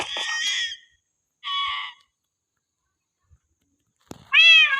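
A cat meows several times in short, harmonic cries separated by pauses, the last one louder and closer.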